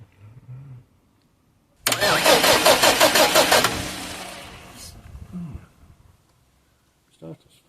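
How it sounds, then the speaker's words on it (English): A Perkins engine in a JCB 3CX backhoe cranks on its starter for about two seconds, a loud rhythmic churning that fails to catch and fades out, with voices speaking briefly before and after. "Starter's fine. Right, okay, so why isn't it starting?"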